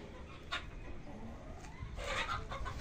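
A hen clucking in a backyard coop among other poultry, a few soft calls over a steady outdoor hiss, with a louder burst near the end.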